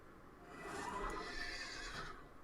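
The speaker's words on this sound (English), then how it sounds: "Horse is loud. Horse is loud." A horse neighs in a Minecraft-style hardcore survival game, a long, loud whinny that swells in the middle and tails off, heard alone with no talking.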